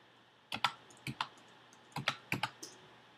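Several quick keystrokes on a Mac computer keyboard while entering a game score, clustered in short irregular bursts of crisp clicks at close range with no talking.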